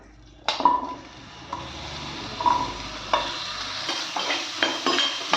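Shallots, tomato and potato sautéing in coconut oil for sambar, a soft sizzle punctuated by several sharp spatula knocks and scrapes against the pan at irregular intervals, close and clear, without talk.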